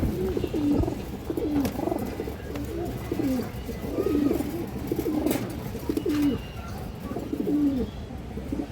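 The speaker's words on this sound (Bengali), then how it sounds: "জোড়া রাসগোল্লা কবুতর আনছি আজকে" A pair of Rasgolla pigeons cooing, a male and a female, repeated soft rhythmic coos in a steady series, close by and with no speech.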